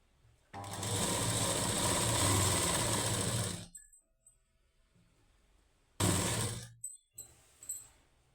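A sewing machine stitching falls onto a saree: a loud, close, steady mechanical whirr for about three seconds, then silence, then a short second burst and a few brief clicks.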